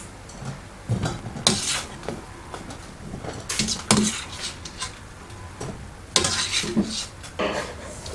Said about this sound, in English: Once the shrimp turn color, drain and remove.